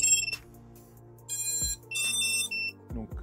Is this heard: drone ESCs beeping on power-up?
yes